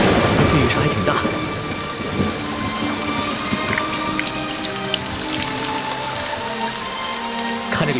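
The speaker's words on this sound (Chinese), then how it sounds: "最近雨势还挺大。" Heavy rain pours down in a loud, dense, continuous wash while deep thunder rolls and rumbles beneath it, with no one speaking.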